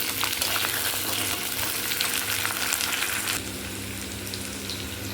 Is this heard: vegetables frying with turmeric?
yes